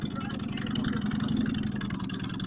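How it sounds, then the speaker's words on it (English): A Harley-Davidson engine powers a four-wheeled belly tanker, running with a steady, rumbling idle at moderate level and no talk over it. "Harley-Davidson powered belly tanker, four-wheeled motorcycle"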